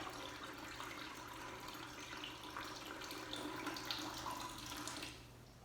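Liquid drains from a 5.3L LS engine through a short siphon hose, giving a faint, continuous trickling and splashing flow that swells slightly near the end, with no talking.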